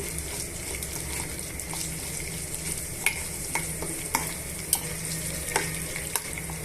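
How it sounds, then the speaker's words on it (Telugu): Tempering seeds frying in hot oil for a tomato chutney, giving a continuous even sizzle with a few sharp clicks and pops scattered through the later part. "ఇప్పుడు పోపు గింజలు బాగా వేగిపోయాయండి"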